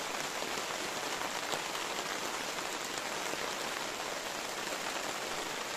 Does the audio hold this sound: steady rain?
yes